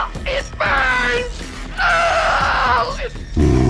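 Anguished screams from characters set on fire in the video game Blood: Fresh Supply, two long loud wailing cries separated by a short gap, close and harsh.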